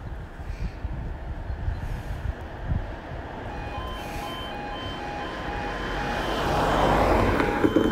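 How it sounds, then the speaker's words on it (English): A fast train passes through a railway station platform at Hykeham, a rumble building steadily and growing louder toward the end, with a repeating tonal beep sounding through the middle. "fast train approaching"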